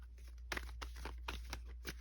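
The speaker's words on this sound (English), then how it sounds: "We're trying to shuffle on this camera." Tarot cards being shuffled by hand, a quick run of soft crisp riffling and flicking bursts at close range, with no talking.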